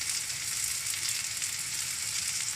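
Shakshuka base sautés in a pan after cumin powder and red chili powder are added, giving a dense, even frying sizzle that stays loud and close with no pauses.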